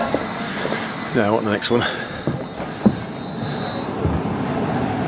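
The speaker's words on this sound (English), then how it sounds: "Right, this is the Leeds service heading off to Leeds" A Leeds service train arrives at a station with a low rumble and wheel squeal, heard at a middle distance as people talk nearby.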